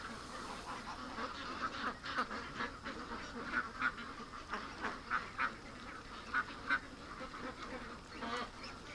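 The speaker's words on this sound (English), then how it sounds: "Look at the crippled ducks we have here." Ducks in a pen quacking repeatedly in short irregular bursts, moderately near but fairly soft, with an outdoor hiss underneath.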